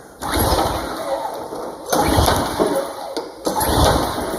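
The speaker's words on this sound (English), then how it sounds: "So let's give it a couple of pulls, see what happens here." Recoil pull-start of an old Craftsman walk-behind string trimmer engine, three loud raspy pulls in a row as the cord whirs and the engine turns over without catching, heard up close.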